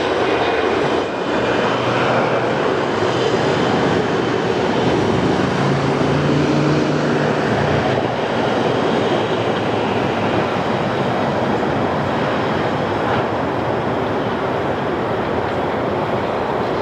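A Jetstar jet airliner landing on runway 16 right at Sydney Airport, heard as a steady, loud, broadband engine roar that holds without a break from start to finish.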